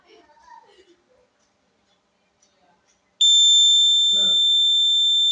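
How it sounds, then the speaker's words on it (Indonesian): A few soft spoken sounds, then a loud, piercing electronic buzzer of a flood warning system starts and holds a steady tone, with a brief voice underneath. "Ketika sudah mencapai debit banjir, baru buzzer akan menyala terus-menerus."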